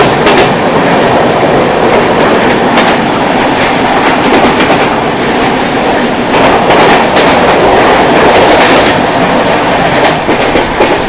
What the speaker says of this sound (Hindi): ये थी मुंबई की एसी लोकल।